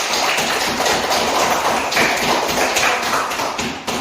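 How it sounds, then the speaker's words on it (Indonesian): A group of teachers in a coaching session claps hands together, a dense continuous patter of clapping at close range that holds steady for several seconds. "Tepuk tangan deh."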